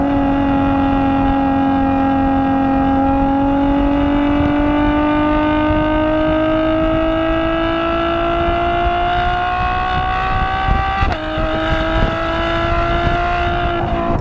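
A Ferrari F12 TDF's engine drones loudly from inside the car while driving, a smooth tone rising slowly as it pulls, with a quick shift and momentary dip near the end before climbing again.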